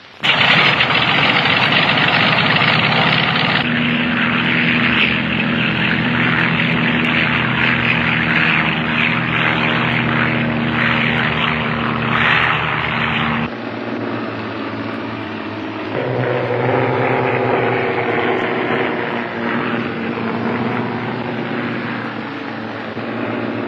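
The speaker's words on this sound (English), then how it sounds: "Gayford and Flight Lieutenant Nicolets land at Cape Town in their Fairey monoplane" Fairey Long Range Monoplane, a propeller-driven aircraft, its engine droning loudly and continuously, with a shift in tone partway through as it keeps running.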